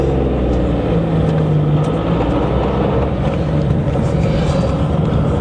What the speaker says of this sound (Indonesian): mobil yang bermesin karburator